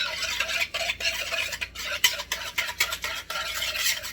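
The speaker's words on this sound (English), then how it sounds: "Whisk in 1/2 cup of sugar." A whisk beats sugar into heavy whipping cream in a bowl, giving quick, rhythmic scraping strokes with brief pauses between bursts, close and fairly loud, with no voices.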